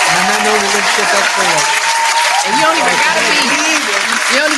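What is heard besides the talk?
clapping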